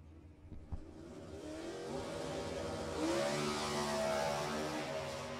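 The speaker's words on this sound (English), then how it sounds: "Well, you hear the high-winded Chevrolet out in front." A high-winding Chevrolet drag racing car runs at high revs down the strip, its engine whine rising and swelling as it nears, heard from a distance over a broad wash of track noise.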